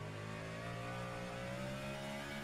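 A NASCAR stock car in a sim racing game at Mid Ohio is held in second gear at full throttle up a hill, its engine droning in a steady, sustained whine as the revs climb gradually.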